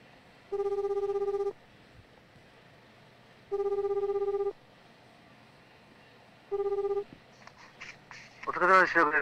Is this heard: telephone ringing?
yes